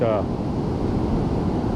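Wind and surf roar in a broad, continuous rush on an Oregon beach during a surf perch fishing outing, loud and close, with a brief voice at the very start.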